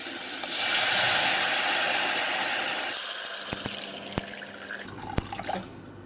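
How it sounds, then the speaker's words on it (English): Water poured from a bowl into a pan of fried chicken and seasonings for flat rice noodle soup, a steady rushing hiss for about three seconds, then fading into sizzling and a few sharp clinks. "When this fried, I'm going to put in the water."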